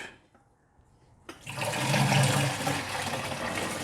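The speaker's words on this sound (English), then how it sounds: "Get the sieve ready, and I'm gonna pour the rest of these guys out." Water kefir pours through a sieve in a steady, fairly loud splashing rush that starts abruptly and keeps running without pause.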